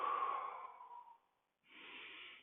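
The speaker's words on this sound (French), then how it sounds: "On inspire, on ramène." An audible inhale during a Pilates floor exercise, one drawn-out breath, fairly close and soft, followed after a short pause by another breath sound; no talking.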